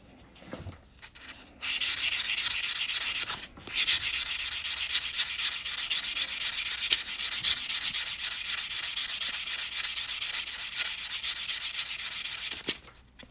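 Continuous rough, scratchy sanding of the cut edges of quarter coins being made into rings, steady and close for over ten seconds after a brief start, with short pauses.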